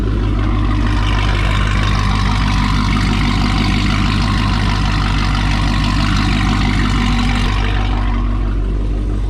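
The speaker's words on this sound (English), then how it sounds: "Fifth thing I love about this car is the sound." A Dodge Charger with an aftermarket Corsa long tube exhaust rumbles loudly and steadily at idle. The deep, throbbing drone is close and sustained, easing slightly in the last second, with no talk over it.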